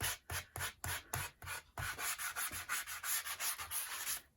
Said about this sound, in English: So this one I'm going to do a little more sanding than the